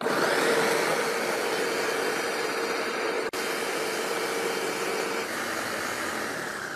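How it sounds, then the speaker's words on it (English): A blender whirs continuously as it blends a walnut mixture, a loud, steady motor drone with a brief cut-out midway before it carries on evenly. "Start the blender."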